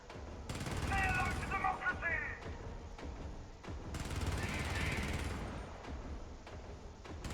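Automated turret in the Helldivers video game fires sustained bursts at enemies, a dense rattling barrage that carries on almost unbroken beneath heavy combat noise.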